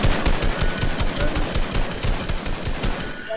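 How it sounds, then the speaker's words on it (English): Rapid automatic gunfire from the video game Fortnite rattles out in dense, rhythmic bursts, loud and close, with no talking over it. "There's more people shooting."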